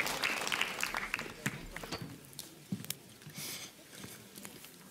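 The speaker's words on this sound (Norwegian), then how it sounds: "Applaus for riggecrewet." A short burst of clapping from an audience at a talent show, patter of many hands fading after a few seconds, with a voice speaking over it.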